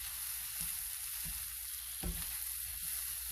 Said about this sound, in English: let's give that a quick push around the pan